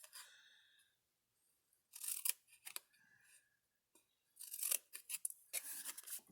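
Scissors snip a small triangle out of paper for a candy holder craft, giving quiet, close crisp cuts in two short bursts separated by pauses.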